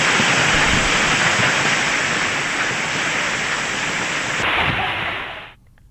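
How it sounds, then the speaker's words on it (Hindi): Heavy rain pours in a steady, dense roar, loud and close throughout, with gusting wind in the wash before the downpour cuts off abruptly near the end. "तेज बारिश हुई"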